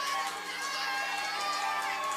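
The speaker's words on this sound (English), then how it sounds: "Crowd here celebrating." Boxing-match crowd cheering and celebrating during a standing eight count, a dense, steady roar of many voices filling the arena for a couple of seconds.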